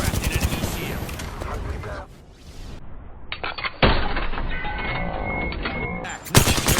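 Knuckle buster weapon in HP Origins firing off in rapid bursts, crackling gunfire-like blasts layered over busy game effects, with a loud burst near the end.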